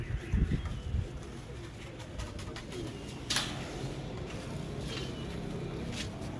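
Asal Imam Deen pigeons coo in low, soft repeated phrases close by, with occasional rustles and a sharper flutter or tap midway against a steady ambient background.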